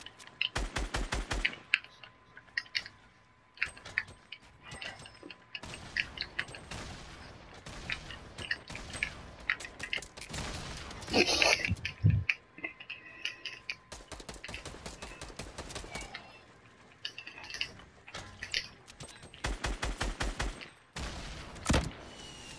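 Fortnite gunfire comes in repeated quick bursts of rapid shots, fairly close and sharp, separated by quieter stretches of softer clicks and game noise.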